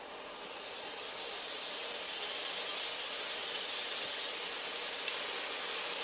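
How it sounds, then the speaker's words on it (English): About a tablespoon of soy sauce hits cauliflower and vegetables in a hot pan for fried rice, giving a steady, close hiss of sizzling that holds evenly throughout. "About a tablespoon of soy sauce. Can you hear it sizzle?"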